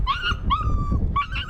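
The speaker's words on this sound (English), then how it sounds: "An adorable litter of foster puppies." A litter of foster puppies yips and whimpers in high, rising cries, three bursts over a steady low rumble of background noise near a softball field.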